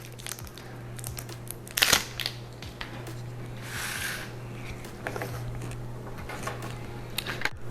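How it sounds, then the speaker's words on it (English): Plastic wrapping being peeled from a Fire TV Stick 4K cable, heard as close crinkling and a few sharp snapping crackles over a low steady hum. "Let's remove the plastic cover from here."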